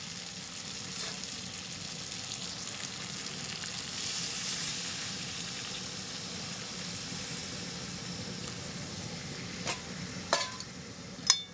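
Water poured into a hot pan while cooking a curry gives a steady broadband sizzle that hisses on without a break, followed near the end by a few sharp clinks from the pan. Nobody speaks.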